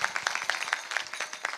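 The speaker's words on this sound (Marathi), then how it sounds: "त्यांच्याकरता एकदा जोरदार टाळ्या वाजवा" A kirtan audience gives a brief round of applause, a quick series of sharp, fairly close hand claps lasting under two seconds.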